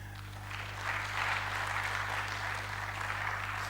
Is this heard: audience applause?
yes